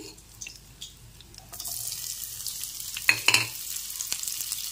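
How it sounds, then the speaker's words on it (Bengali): Chopped onion frying in oil in a pan for a fish curry, a soft sizzle that rises as stirring begins, with a few sharp clinks of the spatula against the pan. "পেঁয়াজটাকে একটু নেড়ে চেড়ে ভেজে নিচ্ছি"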